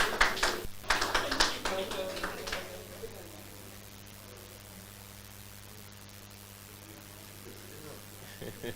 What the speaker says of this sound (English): Round of applause again, ladies and gentlemen.